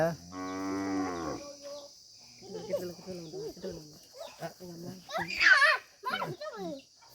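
A calf gives a clear, drawn-out moo near the start, followed by people, including a child, talking and babbling close by.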